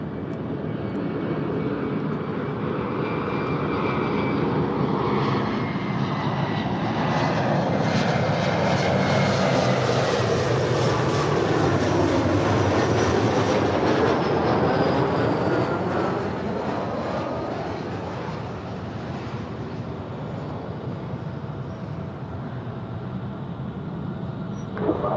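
Airliner jet engines roar at LAX as a plane takes off or lands, a loud continuous rush that swells and shifts in pitch as it passes, then eases slightly toward the end.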